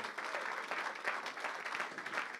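A church congregation claps in praise of the Lord, a dense, steady round of applause from many hands, mid-distance and continuous.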